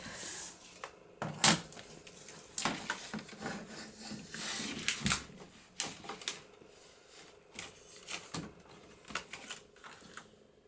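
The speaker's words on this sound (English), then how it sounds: "Now I'm going to trim that up." Scissors or a trimmer cut a Christmas card, giving a series of short crisp snips and paper rubs at irregular intervals, close and fairly quiet.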